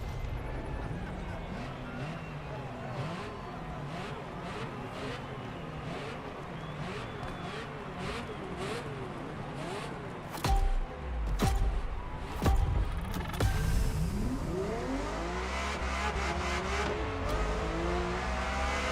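A Ferrari F50 engine in The Crew Motorfest racing game, revving up and down through repeated gear changes, with a louder surge near the end as the car accelerates hard.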